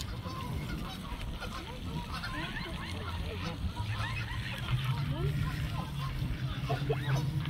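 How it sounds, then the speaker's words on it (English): Ducks and geese, mallards among them, honk and call repeatedly from a crowded flock on the water while being hand-fed, with steady low splashing and voices talking throughout. "Ducks, geese, mallards, all kinds."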